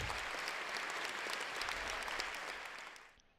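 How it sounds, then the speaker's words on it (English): A crowd of livestream viewers applauds the stream moderators during live morning planespotting at Perth Airport, steady even clapping held for a few seconds before fading away at the close. "let's get a round of applause quickly for our mods"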